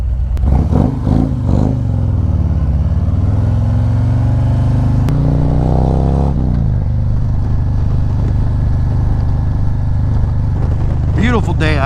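A 2020 Harley-Davidson CVO Street Glide 117 or Road Glide Special 128 rumbles loudly while riding on a road, with deep throbbing exhaust and rev swells throughout and riders talking over it.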